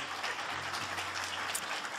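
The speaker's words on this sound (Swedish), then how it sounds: "störningar i form av applåder inte är tillåtna från åhörarläktaren" Faint, steady applause from the public gallery of the Swedish parliament, a diffuse patter of clapping from a distant audience that continues without a break.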